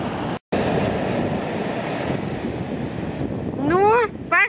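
Churning sea water at a rising evening tide roars steadily with wind buffeting the microphone, and a high, wavering whine rises over the surf near the end.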